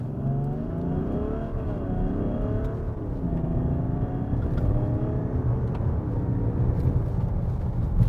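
A 2021 Range Rover Autobiography accelerates hard from 0 to 100 km/h, its engine note climbing steadily through rising revs with a gear shift, heard from inside the cabin as a continuous low growl without talk.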